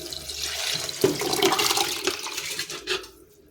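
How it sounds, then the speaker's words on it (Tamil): Measured water for rice and dal rice is poured into the rice, giving a steady, splashing gush that swells, wavers, then tapers off into quiet. "அரிசி தண்ணியெல்லாம் ஊற்றியாச்சு"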